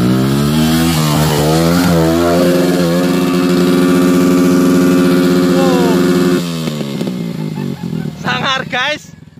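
A motorcycle engine revs loudly and up close on a dirt hill-climb track, rising and falling in pitch, then drops back toward a rough idle before another quick burst of revving near the end.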